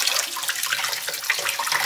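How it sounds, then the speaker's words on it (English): Tap water running steadily over a telescope mirror, splashing over the hard glass surface, close and continuous. "just run the water over it"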